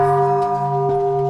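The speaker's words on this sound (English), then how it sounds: "so let's ring the bell" A wishing bell at Nami Island is struck once and rings out with a steady, sustained metallic tone that hangs without fading much, heard alone and up close.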